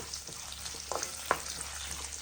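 Ingredients fry in a pan while gongura pickle is being made, a quiet low sizzle with a few soft stirring scrapes and taps.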